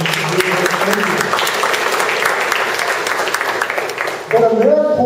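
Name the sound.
audience applause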